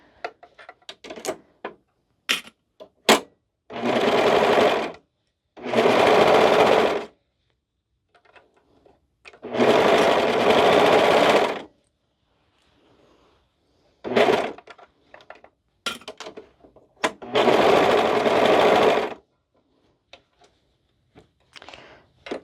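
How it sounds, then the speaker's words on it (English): A sewing machine stitches a cardigan in several separate bursts of fast, steady whirring, each lasting a couple of seconds, with clicks, fabric handling and short pauses in between. "now we're going to sew these"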